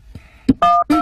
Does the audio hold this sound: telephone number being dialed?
yes